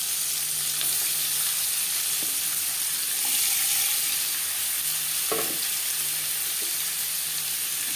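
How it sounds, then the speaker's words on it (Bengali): Sliced onions fry in a little oil. A continuous, even hiss of sizzling fills the clip, with a few soft clicks of the pan or spoon near the middle and no voices. "পেঁয়াজ লালচে করে তিন চার মিনিট ভেজে নেওয়ার পর"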